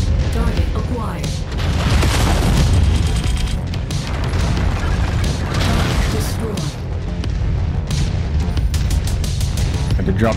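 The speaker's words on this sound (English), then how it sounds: "I had to drop some missiles on their location as I was standing there." Missile volleys from a mech in the Mechwarrior 5 video game detonate in a dense, continuous barrage of loud booming explosions and crashes, with a voice briefly speaking over the din.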